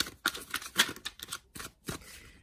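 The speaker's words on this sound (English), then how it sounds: "I'm going to lay out the cards like this" Tarot cards laid out one by one during a reading, giving a string of soft, close, papery slaps and slides, each short and crisp, separated by brief pauses, with no voices.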